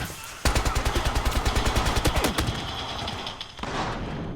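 Rapid automatic gunfire in the video game Battlefield Hardline bursts out loud and close, a fast regular string of shots for about two seconds, then scattered reports and a rumbling tail.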